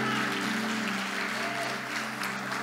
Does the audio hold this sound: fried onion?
no